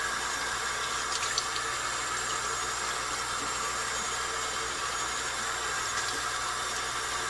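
Warm water runs steadily from a tap for a baby's bath, a constant even rushing hiss that fills the whole stretch at moderate volume, with no voices.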